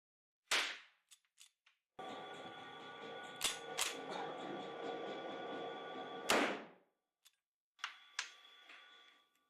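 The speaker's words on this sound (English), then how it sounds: "We can start shooting." Several loud shots from a Winchester 1873 lever-action rifle, each sharp crack followed by long ringing reverberation, with metallic lever clicks and small mechanical ticks between the shots.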